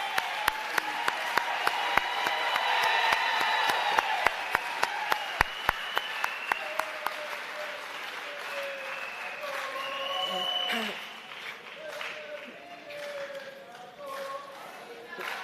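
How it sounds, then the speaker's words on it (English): Audience applause for the President at a summit on gender-based violence and femicide, with rhythmic unison clapping at first that breaks into looser applause while voices sing and talk over it. "Let's give him another round of applause."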